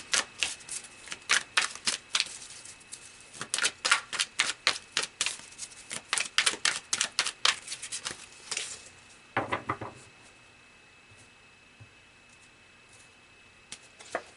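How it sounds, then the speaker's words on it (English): Tarot cards are shuffled up close in a long run of crisp riffling slaps, fast and rhythmic at first, then a few softer flutters before the sound fades to near silence. "So let's pull a few more cards"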